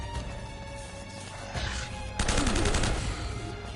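Gunfire from snipers in Uncharted: Drake's Fortune, a dense crackling exchange of shots that swells into a louder, sharper volley midway, with no talking.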